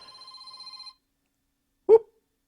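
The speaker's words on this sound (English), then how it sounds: "A little awkward when the phones ring in the middle of a live episode." A telephone rings indoors during a live broadcast, a steady electronic trill for about a second, followed by silence and one short low thump.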